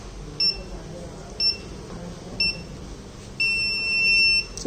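Moisture sensor alarm on an ultrasonic smart blind stick, with three short electronic beeps at roughly one-second intervals followed by a longer continuous beep, clear over a faint background hum.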